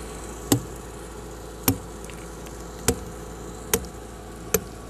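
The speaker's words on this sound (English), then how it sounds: "We put them in the holes and then tapping with hammer" Hammer blows tapping steel wedges into drilled holes to split granite at an outdoor stone sculpture symposium, five sharp metallic strikes spaced about a second apart over a faint steady background hum.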